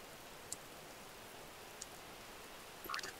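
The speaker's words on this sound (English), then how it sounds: "There's a stormy wind and rainy night." Steady rain hisses through a stormy night in the video game Quarantineer, a soft, even wash of noise with a few faint clicks and taps scattered over it.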